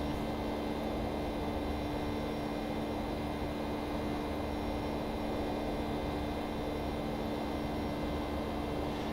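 A Boeing 757 jet in the X-Plane 12 flight simulator cruises with a constant broad roar and a steady whining hum, continuous and even throughout, with no talking.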